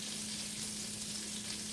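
Salted butter sizzles in a pot at the start of Louisiana-style red beans, a steady, close frying hiss with no pauses.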